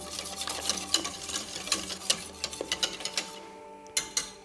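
Soft polenta with parmesan stirred in a pot, a spoon scraping and knocking against the sides in a steady run of soft, close clicks and swishes with no voices.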